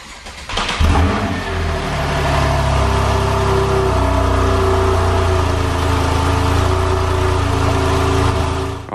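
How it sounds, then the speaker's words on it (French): Porsche 911 engine with the sport exhaust opened, starting with a sharp bark and then holding a loud, steady, throaty rev close by for several seconds, with no talking. "On ouvre l'échappement."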